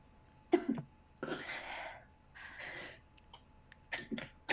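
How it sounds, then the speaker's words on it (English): A person sneezes and sniffs in several short, breathy bursts spread unevenly over a few seconds, close and fairly quiet against near silence. "I'm sneezing a lot."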